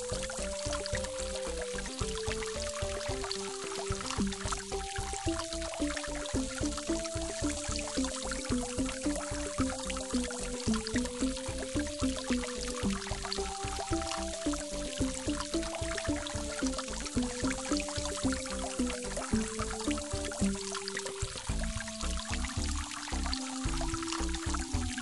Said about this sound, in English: The water is flowing over the umbrella.